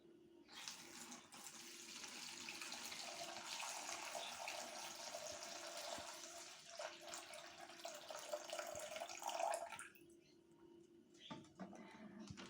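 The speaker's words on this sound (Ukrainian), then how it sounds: "Дивіться і заповняємо його водою." Tap water runs steadily into a plastic bag for about ten seconds during a children's water experiment, a broad continuous rush that ends abruptly, followed by quieter handling sounds.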